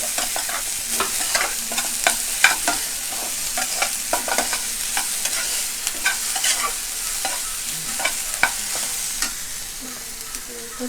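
Mushroom and vegetables frying in oil in a pan for a Frankie roll, with steady sizzling under repeated sharp scraping stirs from a spatula, close and without speech.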